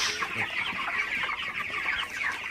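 Flock of broiler chickens about 31 days old on a farm at night, a dense continuous murmur of overlapping clucks and chirps from many birds close by, steady throughout with no talk.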